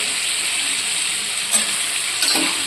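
Potatoes are stir-fried in spiced oil that has separated. A loud, continuous sizzle is broken by a couple of brief stirring scrapes.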